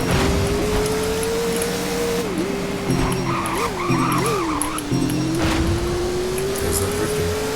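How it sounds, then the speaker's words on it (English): A 2023 Hennessey Venom F5 Roadster drifts in the Roblox game Driving Empire, with a sustained tire squeal wavering in pitch over a steady engine drone, loud and continuous throughout. "There's that drifting."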